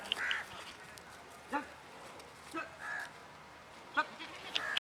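Goats bleat in short, separate calls spread across a rural outdoor scene, with about five brief cries at moderate distance over a quiet background.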